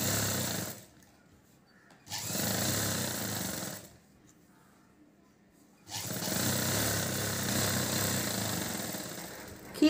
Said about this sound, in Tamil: நம்ம முதல் வந்து லைனிங் கிளாத்தில் கீழே மடித்து தைச்சிடலாம்.